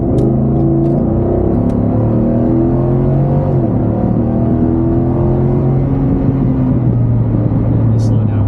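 Ford F-150, 2018, with 5.0 Coyote V8 and Flowmaster 70 series exhaust with a 3-inch resonator, droning steadily from inside the cab at highway speed, a low continuous rumble with slowly shifting tone and no talking.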